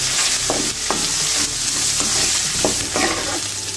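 Chopped onions with curry leaves and green chilies frying in hot oil for a drumstick poriyal, a steady loud sizzle broken by repeated scraping stirs of a spatula.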